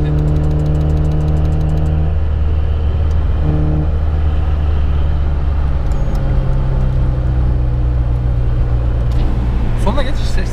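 An Opel Omega 2.5 V6 car in a drag race runs at a loud, constant engine drone with a gear change partway through, then keeps pulling hard. Voices talk over the engine noise throughout.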